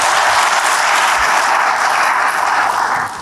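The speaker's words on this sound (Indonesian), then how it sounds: "Berikan sekali lagi tepuk tangan bagi Tuhan." Church congregation applauding during a sermon, a loud, dense, steady wash of clapping that fills the whole stretch without pause and fades slightly at the very end.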